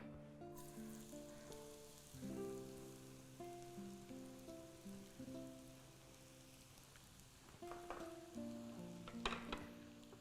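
Sweet potato shallow fries in hot oil, a soft, steady crackling sizzle beneath sustained musical tones, with a few sharper spatters toward the end.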